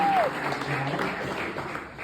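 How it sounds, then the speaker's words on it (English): An audience at a business panel gives a round of applause after a conversation, moderately loud and brief, with a short whistle at the start and voices blending in. "I want you all to give Reginald a round of applause for this conversation"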